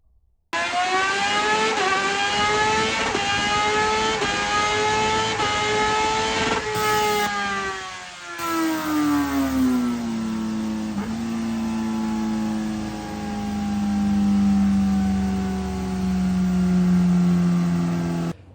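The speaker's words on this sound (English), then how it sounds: "I've got a bike on dyno at the moment" Suzuki GSX-R motorcycle engine revving on a dyno, a loud, close whine climbing in pitch, dropping after a gear change, then sweeping upward again under sustained load.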